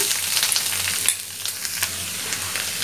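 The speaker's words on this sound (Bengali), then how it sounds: "এখন এটা একটু করে নাড়াচাড়া দিয়ে এটা ভাজা ভাজা করে নিতে হবে" Grated bottle gourd, drained of water, stir-fried in a pan for a milk pudding, a close sizzle with scraping stirs and a few louder bursts, no talking.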